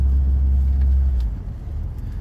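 Fiat X1/9 car engine running smoothly, a steady low rumble at idle that drops slightly in level partway through, close and without talk.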